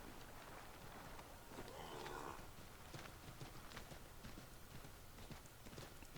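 Steady clip-clop of horse hooves at a walking pace in Assassin's Creed 3 Remastered, fairly faint and continuous, with a soft background ambience throughout.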